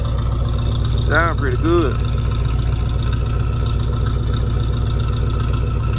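Pontiac Grand Prix 2+2 engine idling steadily with a stock muffler, a low continuous rumble throughout, with someone briefly speaking over it.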